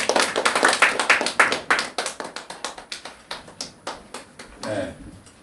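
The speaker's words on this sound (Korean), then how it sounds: "감사의 박수" A church congregation claps in thanks after a prayer, a dense burst of close hand claps that thins into slower scattered claps and fades, with a brief voice near the end.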